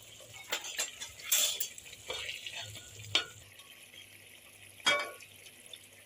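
Cooked moth beans being scooped from a pressure cooker into masala, with sharp metal spoon clinks and scrapes against the pots, soft thuds and a faint sizzle between them.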